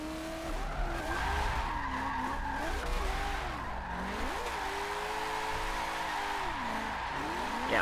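Drifting car in the racing game Forza 7, its engine note rising and falling in sweeping revs beneath continuous loud tire skidding and squeal, steady from start to end.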